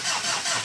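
A Mitsubishi Montero Sport engine, just rebuilt after an overhaul for black smoke and misfiring, catching as it starts: a short, loud, steady mechanical roar heard alone.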